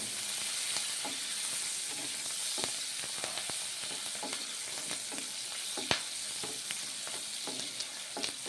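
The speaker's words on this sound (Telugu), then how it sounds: "ఒక ఉల్లికాయ ఒక ఉల్లిగడ్డ రెండు పచ్చిమిరపకాయలు అదే ఆయిల్లో వేపుకుందామండి" Onions and green chillies fry in hot oil that was just used for frying fish, a continuous soft sizzle with occasional stirring clicks and spatters, heard up close.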